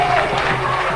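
Crowd applause at a Pakistan versus South Africa cricket match in Sharjah, a steady wash of clapping from a distant stadium audience, with a commentator's voice faintly over it.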